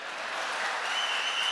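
Sustained applause from a Tamil Pattimanram debate audience, a dense steady wash of clapping that holds at an even level throughout without any voices on top.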